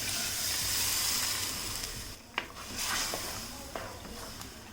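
Boiling water poured from a mixer jar into a pan of roasted-coconut varutharacha curry, giving a close hissing, bubbling gush that fades briefly and then resumes with a few clinks.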